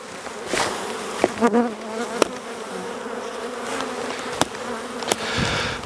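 Honey bees buzz steadily around a hive during a spring inspection, a dense continuous drone with individual insects swooping close now and then, heard alone without talk.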